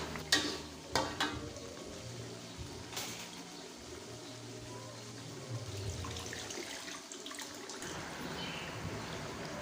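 Frying ingredients for bone soup stirred over a low flame, a soft continuous sizzle with a few scraping knocks of the utensil early on, fairly quiet throughout.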